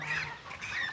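Nasal honking calls from ducks in a garden, a brief cluster of overlapping quacks at moderate distance over a soft background.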